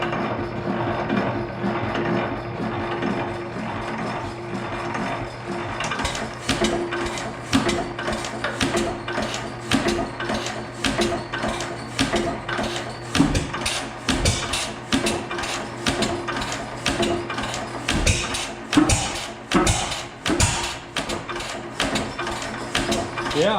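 A rebuilt Economy 5hp engine being cranked over, with a dense rhythmic mechanical clatter and ratcheting that quickens and grows louder partway through, all close by.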